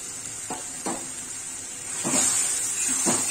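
Spice paste for egg curry stirred and fried in a little oil with onion, garlic and tomato, giving a steady hiss with four soft scraping strokes of the spoon, close and unobscured by talk.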